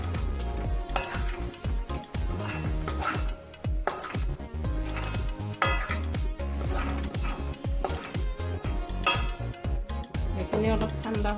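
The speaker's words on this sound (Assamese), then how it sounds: "এতিয়া মই এটা বাচনত নমাই ল'ম এইখিনি।" Roasted grated coconut is scraped from a pan into a bowl, with steady clatter and scraping of utensil against metal cookware, close and busy throughout.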